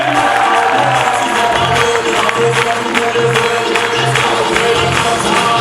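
An audience at a mega recognition show applauds and cheers, a dense, loud and continuous wash of clapping and crowd noise that fills the whole stretch.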